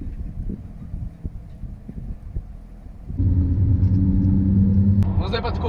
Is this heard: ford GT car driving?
yes